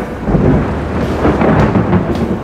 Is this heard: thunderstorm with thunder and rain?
yes